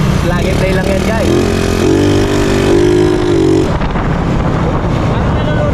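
Motorcycle engine with a freshly installed Keihin flat slide carburetor, running loud and close with a rough, wavering idle that rises briefly before settling, while people talk over it.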